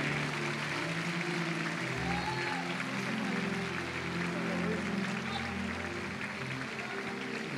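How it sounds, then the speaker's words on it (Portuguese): A church congregation at a miracle crusade service applauds, a steady, dense wash of clapping that fills the hall throughout, with a low rumble of voices underneath. "Vamos aplaudir Jesus bem forte."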